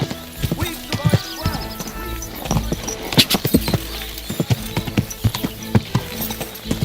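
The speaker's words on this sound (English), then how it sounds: "My, what a beautiful horse." Horse hooves clip-clopping in the medieval game Kingdom Come: Deliverance 2, a close, uneven string of sharp hoof strikes mixed with clatter and a brief whinny, over a low game ambience.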